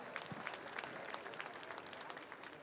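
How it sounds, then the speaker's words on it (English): Audience at the Mr Gay World 2017 pageant in Maspalomas applauding, a steady patter of many hands heard faintly and from a distance with a few louder claps. "Big applause, please."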